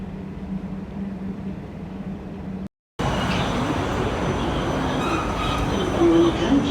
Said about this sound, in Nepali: फाइनली हाम्रो ट्रेन पनि आयो।